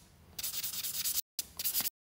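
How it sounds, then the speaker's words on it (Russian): A nail file sands a long fingernail during a nail-art session, two quick bursts of close, dry rasping strokes separated by a short pause, with no talking. "Шлифуем наш ноготочек."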